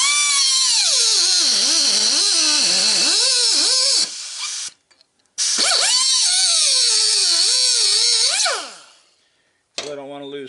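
A loud, close power tool whines as it cuts through copper at a bevel angle. The pitch rises and dips under load in two long passes, separated by a brief stop, then it spins down.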